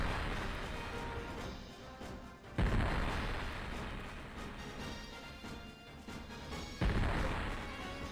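Barrage explosions in the space strategy game Infinite Space: two sharp booming impacts rise out of a dense, steady roar of game sound, the heavier hits landing a few seconds apart.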